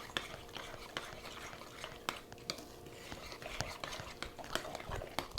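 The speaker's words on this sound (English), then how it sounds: "I'm going to stir this all together." A green bean casserole mixture being stirred together in a bowl or pot: repeated close scraping and clinking utensil strokes in an irregular rhythm, fairly quiet with a soft background hiss.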